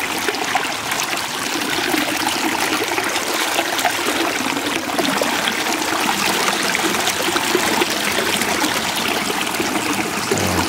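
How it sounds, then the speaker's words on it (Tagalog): Steady, strong rushing irrigation water flows continuously from a dam to rice fields, a full gurgling stream with no pauses, close and fairly loud throughout. "malakas naman yung agos ng tubig para sa kanila"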